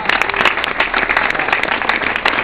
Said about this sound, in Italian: grazie per questo caloroso applauso